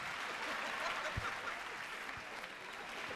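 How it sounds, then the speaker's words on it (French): Faint applause from a studio audience for the Saint-Pierre choir on a Friday night TV show, a steady wash of clapping with a voice speaking over it. "Applaudissez pour la chorale Saint-Pierre du vendredi."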